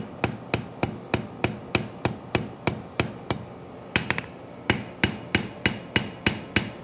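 Hammer blows on metal at a forge, struck at a steady rhythm of about three per second with a brief flurry of quick taps midway, close and sharp, with no talking.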